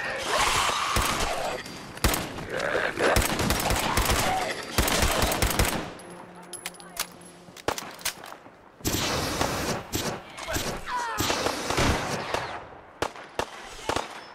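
Rapid automatic gunfire rattles in Fallout 4, loud dense bursts that break off briefly for scattered single shots and then resume with sustained fire.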